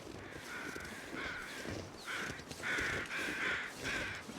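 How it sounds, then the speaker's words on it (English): Crows cawing in The Long Dark survival game, a series of harsh repeated caws in a rough rhythm, fairly loud over a steady windy outdoor ambience with no talking. "Those are carrion or just beeline crows, so to speak."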